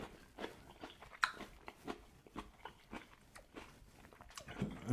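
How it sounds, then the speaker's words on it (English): A stir-fried pepper is chewed close up, with repeated soft crunches and moist bites in an irregular rhythm. "You can hear the crunch."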